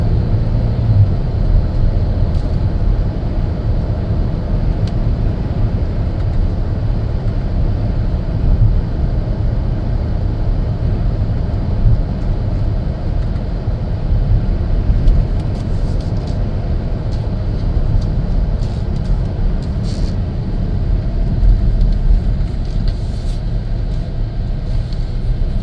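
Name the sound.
2020 Chevrolet Traverse AWD driving on road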